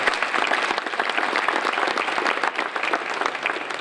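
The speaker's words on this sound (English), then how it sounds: "So give them another round of applause." Dense, even applause from a dinner audience at a hall of fame event, honoring a choir, clapping loud and close with a few voices mixed in.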